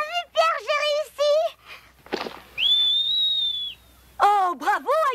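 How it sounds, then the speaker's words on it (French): A cartoon character whistles a single long, steady rising-then-level note, with short bursts of talk before and after it. "Je ne sais même pas bien siffler. Écoute."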